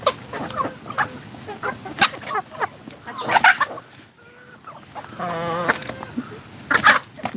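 Chickens on a farm cluck and call in scattered bursts close by, with one drawn-out squawk standing out, mixed with some background noise.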